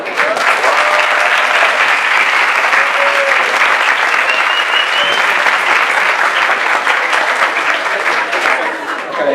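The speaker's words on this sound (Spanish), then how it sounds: "Un aplauso, por favor." Sustained applause from an audience after a panel talk, steady and dense clapping throughout with a faint murmur of voices mixed in.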